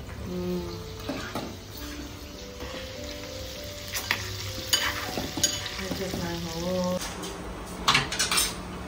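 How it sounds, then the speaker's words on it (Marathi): Onion bhaji fritters sizzle and fry steadily in hot oil in a home kitchen, with a metal spoon stirring and scraping the pan and occasional clinks throughout. "आता भजी बरोबर तेल गरम झालेलं"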